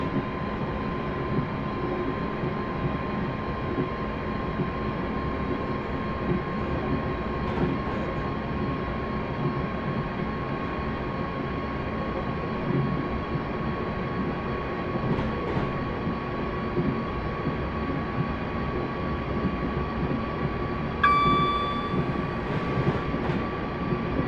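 A train in Train Simulator 2018 accelerates at full power, a steady droning rumble with a constant tonal whine held throughout, plus a brief higher beep near the end.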